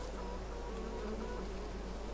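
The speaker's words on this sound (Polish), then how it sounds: "Ty naprawdę co ty pszczoły agresywne." Faint, steady insect buzzing from bees on a Polish farm during wheat sowing and harrowing, a thin continuous drone over low background rumble with no talk.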